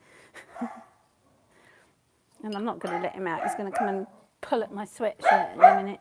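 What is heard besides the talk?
dog barking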